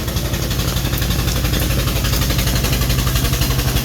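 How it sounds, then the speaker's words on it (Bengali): A small open trawler boat's engine chugs past nearby on the water, a loud, steady, rapid low thumping that holds throughout with no voices. "আরও একটা ট্রলার বেরিয়ে যাচ্ছে।"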